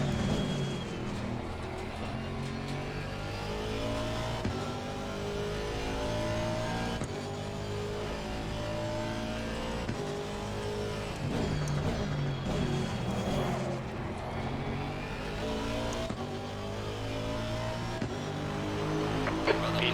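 Race cars in a live race, engines rising and falling through braking and acceleration with harmonic revving sweeps, continuous and loud for the whole stretch.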